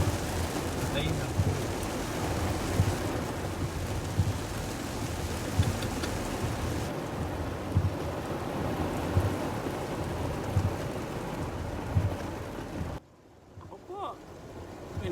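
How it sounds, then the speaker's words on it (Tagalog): Heavy rain pours steadily on a Manila street with rumbles of thunder, a dense continuous roar that suddenly drops away near the end. "Lakas ng ulan."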